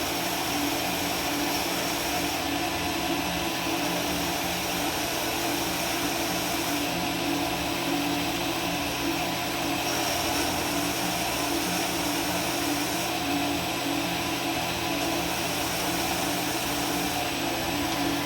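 A power grinder works the blade of an Egyptian-style dagger, giving a loud, continuous, even whirring roar with no breaks for the whole stretch.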